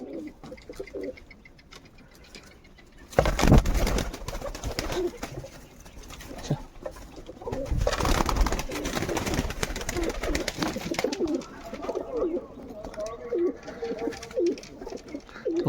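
Pet pigeons, including yellow-eyed birds and doves, coo from a loft, soft repeated calls running through the scene with a louder burst of activity in the middle and bird sounds continuing to the end.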